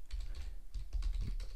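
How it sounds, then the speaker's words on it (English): Quick, light keystrokes on a computer keyboard come in a short burst of irregular clicks, close and fairly quiet, with no voices. "type in ns1.bluehost.com"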